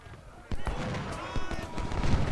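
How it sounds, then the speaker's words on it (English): Booming artillery fire from a Civil War battle in the strategy game Ultimate General: Civil War, near the stone bridge at the First Battle of Bull Run; repeated broad blasts and rumbling over a steady din of battle. "Now artillery is opening up."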